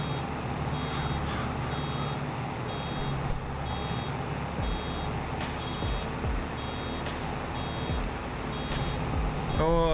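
Reversing warning beeps from farm machinery in a farming video game, a regular repeating series of short high beeps over steady engine rumble, with a voice talking over it.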